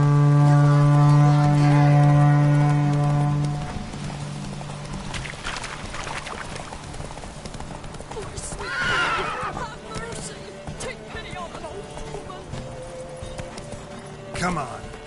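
In The Witcher 3, the horse Roach whinnies loudly among hoofbeats, while a deep sustained tone fills the opening seconds and other game sounds continue underneath.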